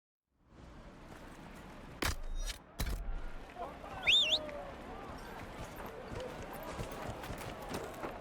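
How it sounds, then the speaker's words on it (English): Horse hoofbeats from riding in the video game Dragon Age: Inquisition, a steady galloping patter running under ambient game sound, with a few sharp thumps and a brief bird-like chirp partway through. "Gonna ride your horse for that little distance?"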